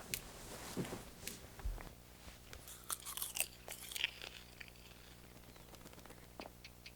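Crunchy chewing and biting sounds repeat irregularly up close, quiet, with scattered sharp clicks.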